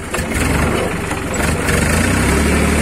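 A farm tractor engine idles loudly and close by in rainy orchard conditions, a steady low throbbing rumble that holds for a few seconds.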